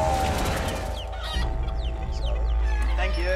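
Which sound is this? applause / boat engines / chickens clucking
chickens clucking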